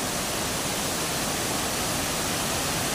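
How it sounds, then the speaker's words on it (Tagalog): Bantakay Falls in Sta. Catalina thunders as a dense, steady rush of falling water, loud and close, with an even hiss and no voices over it. "Super amazing falls."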